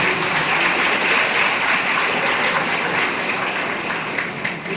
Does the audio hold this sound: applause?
yes